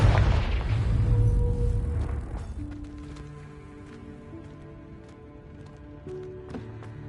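A booming Confringo explosion spell from Hogwarts Legacy bursts loudly at the start, then a lower rumble and game effects linger with faint tonal tones afterward.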